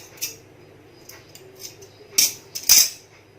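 Scissors snip through loose cotton stuffing while a small cushion is being made, two crisp metallic cuts close by among lighter handling clicks in a quiet room.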